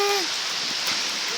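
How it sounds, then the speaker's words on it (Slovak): Heavy rain pours steadily during a huge thunderstorm, a loud dense hiss with no pauses, briefly overlaid by a faint tonal whistle at the start. "Teraz naozaj prší."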